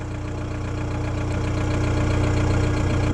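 Diesel exhaust of a 1996 Audi A3 8L with the 1.9 TDI engine idling, a steady close rumble with a low pulsing throb and faint knocking character, constant and alone throughout.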